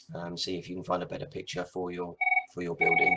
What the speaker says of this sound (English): Sorry, excuse the phone.